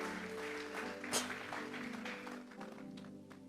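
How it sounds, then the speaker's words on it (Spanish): A church congregation applauds as an offering to God, a steady wash of clapping at moderate level with a brief louder burst near the middle and a thin sustained musical tone beneath. "Vamos a regalarle ofrenda de palmas al Dios de la gloria"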